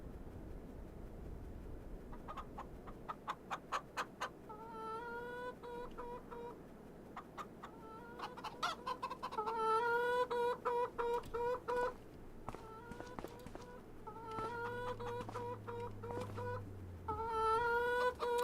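Chickens cluck and squawk in a pen in Farming Simulator 25, repeated short calls that build into a busy, overlapping chorus over a low steady hum, with no talking.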